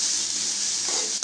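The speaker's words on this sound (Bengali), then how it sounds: "এবার আমি পেঁয়াজটাকে হালকা করে নেড়ে নেড়ে ভাজব" Onions fried in light oil for spicy noodles, a continuous bright sizzle close by, with a short spatula scrape near the end.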